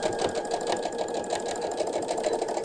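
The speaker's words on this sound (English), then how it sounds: "Do a reverse stitch and stitch off the edge." A sewing machine runs a reverse stitch through fabric for a cafetière cover, a fast, even mechanical chatter of the needle heard up close and alone for a few seconds.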